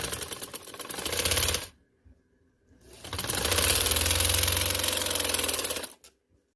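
A sewing machine stitches a khaddar farshi shalwar in two close, steady runs, one short burst followed by a pause and then a longer continuous whirring stretch that stops abruptly.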